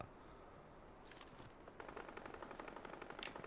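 Rapid bursts of Fortnite gunfire, crackling shots in quick succession at moderate distance over a steady background hum, growing denser toward the end.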